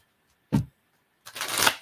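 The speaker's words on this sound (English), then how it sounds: "I don't know why I'm shuffling." Tarot cards shuffled by hand for a reading, a short riffle followed by a longer, louder riffling burst, close and crisp with silence between.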